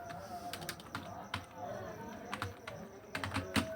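Keys clatter on a computer keyboard during typing in Microsoft Word, quick irregular bursts of close clicks with short pauses, while a voice talks quietly underneath.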